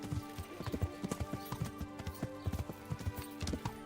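Horse hooves clip-clop at a steady riding gait in the video game Kingdom Come: Deliverance, a quick rhythmic run of hoof strikes over a low ambient game background, fairly quiet and with no talking.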